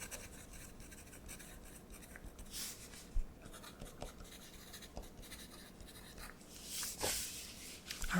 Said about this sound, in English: All right, so I'm going to write my name.